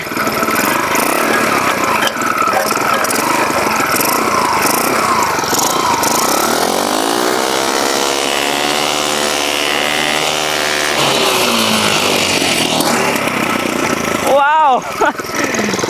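An earth auger driven by an old bike engine runs loudly and close, a rough, steady engine drone that shifts in pitch as it labors and revs, with a voice briefly heard over it.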